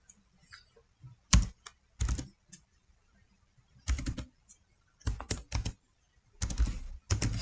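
Keys clack on a computer keyboard in short bursts of quick taps separated by quiet pauses, close and fairly soft, with no talking.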